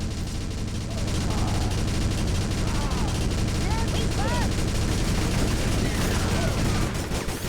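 A machine gun nest fires a long, unbroken stream of rapid shots in the Battalion Wars video game, loud and continuous for several seconds, with faint whistling tones and other battle noise layered underneath.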